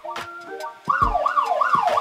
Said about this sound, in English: So we'll click police siren.